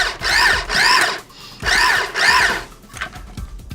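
A blender pulses fresh tomatoes for salsa in four short, loud whirring bursts with brief pauses between them, close by and with no talking.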